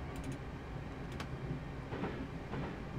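Interior of a Class 350 electric multiple unit on the Trent Valley section of the West Coast Main Line, with a continuous low rumble and rhythmic clickety-clack from the wheels over the rail joints.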